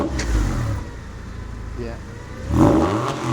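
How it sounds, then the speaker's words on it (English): A Porsche 911 engine, on a car uncovered after long storage, revs with a throaty burble, swelling louder near the end, while someone speaks briefly over it. "Nice little burble to it"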